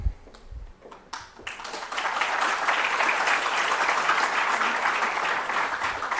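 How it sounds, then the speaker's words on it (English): Audience at a European conference breaks into sustained applause after a few isolated claps, building to a steady, dense roar of many hands that holds for several seconds before easing slightly. "So the working group on applause works."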